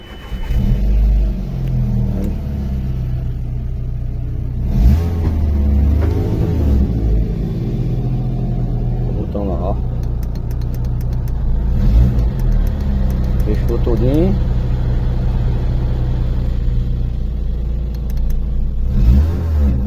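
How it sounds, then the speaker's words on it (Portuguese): A Volkswagen Golf fitted with an exhaust diffuser rumbles loudly and close up, its engine holding a steady idle broken by several sharp revving surges throughout. "Vamos ligar o carro para ver como foi que ficou."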